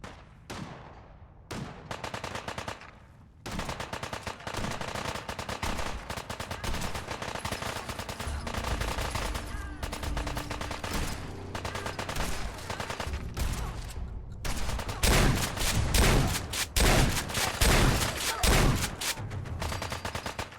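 Enemy gunfire in Fallout 4: long stretches of dense automatic fire, rapid crackling bursts that run almost continuously with a few short gaps, growing heavier and louder toward the end, close by with no talking.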